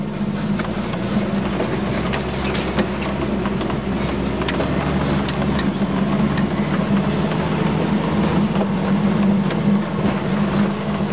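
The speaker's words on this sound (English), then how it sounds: "We'll just kind of idle down." An off-road vehicle's engine idles on a trail at Evans Creek, a steady low rumble with a faint rattle on top, holding even in level from start to finish with no speech.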